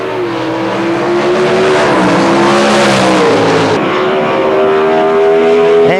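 An ANDRA drag racing car with a smaller motor launches down the strip, its engine a loud, close, sustained roar whose pitch climbs and shifts through the gears for several seconds.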